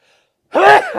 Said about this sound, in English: That's a big league sneeze.